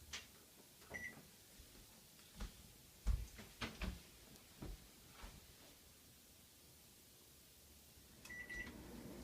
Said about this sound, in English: Okay, the timer is going off.